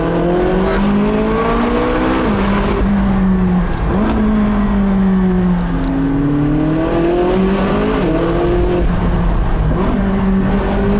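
A McLaren 675LT Spider supercar's exhaust roars loudly and close, with the engine pitch rising and falling through several rev sweeps and gear changes over a steady, heavy drone, and no voices.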